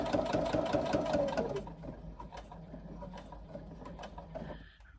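A sewing machine runs a fast, loud stretch of stitching on a backpack, then slows into a few quieter mechanical clicks and a final short run as the stitches are locked in.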